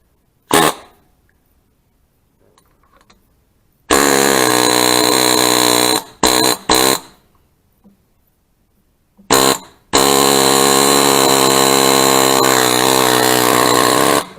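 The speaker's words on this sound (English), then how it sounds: "Maybe that'll get it to help the air chisel." A pneumatic air chisel hammers on a Sea-Doo SPX GS 717 engine in loud, harsh bursts, several short stabs then long sustained rattling runs separated by silence.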